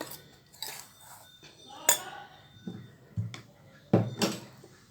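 Spoon stirring milk powder and maida flour in a bowl: scattered scraping and clinking strokes, close by, irregular over a few seconds, with a voice speaking at times.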